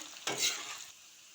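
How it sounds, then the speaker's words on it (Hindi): Chopped onion frying in hot oil, a brief burst of sizzle and stirring that swells quickly and then settles into a softer hiss, heard up close with no talking. "एक कटा हुआ प्याज है, इसको थोड़ी देर लाल करेंगे, तलेंगे प्याज को"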